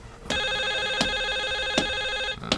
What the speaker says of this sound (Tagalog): Nagring ti telepono.